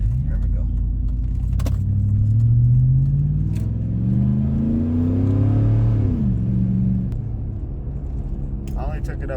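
Tuned pickup truck driving and accelerating, a loud low engine drone rising in pitch through the gears, then easing off, heard from inside with a voice speaking briefly over it.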